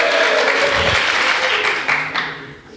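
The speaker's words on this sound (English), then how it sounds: "Okay, so let's try this again. Applause." A live audience at a podcast show in Germany breaks into loud, dense applause that holds briefly and then tapers off over a couple of seconds.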